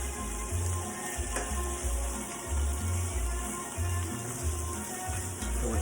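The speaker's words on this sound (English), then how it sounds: "So we're still doing the little sauteing action here." Food sautéing in a pan sizzles and crackles steadily throughout, close and fairly loud, with dull low knocks from stirring recurring at a loose rhythm.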